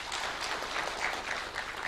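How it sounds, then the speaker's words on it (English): Audience applauding at a public service superannuation fund event, a brief burst of steady clapping from a crowd, fairly even throughout with no voices on top. "A round of applause, kindly."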